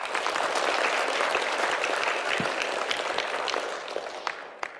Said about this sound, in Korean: 그동안 수고해 주신 조직위원회 분들께 큰 박수 부탁드립니다.